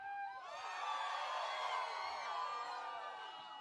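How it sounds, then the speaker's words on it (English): A live audience screams and whoops together in a dense, sustained roar of overlapping high-pitched voices, lasting several seconds at a fairly even level. "I heard maybe 5 or 6 people screaming"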